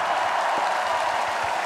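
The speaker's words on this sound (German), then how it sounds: "Großen Applaus dafür, bitte." Applause from a crowd at the German national football team's 2014 World Cup reception in Berlin, a dense, steady patter of clapping throughout the short stretch.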